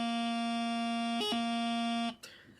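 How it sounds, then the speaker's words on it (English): A single G grace note on a bagpipe chanter: a sustained reedy tone briefly interrupted by a quick high flick near the middle, then continuing before cutting off, close and alone. "So a G grace note sounds like this."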